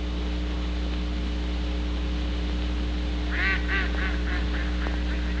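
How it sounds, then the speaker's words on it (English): A few ducks quacking on a golf course, a short run of quick nasal quacks heard at moderate distance over a constant low hum and hiss. "Look at those ducks."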